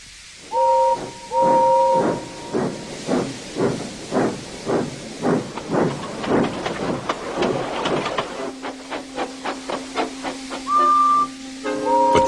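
A steam engine hisses in quick rhythmic puffs, gathering pace, with short whistle toots at the start and end.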